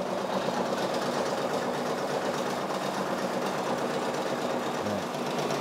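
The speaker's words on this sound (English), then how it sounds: "right now it is doing the final satin stitch border around the patch" A Brother PRS 100 embroidery machine stitches a satin border around a patch, giving a steady, close, continuous mechanical whir with a fast rhythmic needle chatter that stays even throughout, without any talking.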